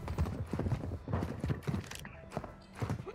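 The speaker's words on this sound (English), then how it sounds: "I hear so many footsteps right now." Rapid, heavy footfalls from Warzone 2 gameplay, several sets of steps thudding in quick uneven bursts, fairly loud and close, with no talk over them.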